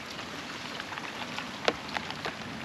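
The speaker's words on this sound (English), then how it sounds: "It has not stopped raining for a week" Steady rain falling after a week of nonstop downpour in a garden, with an overflowing IBC water tank nearby; a constant soft hiss with a few sharper drips or splashes standing out near the end, no voices.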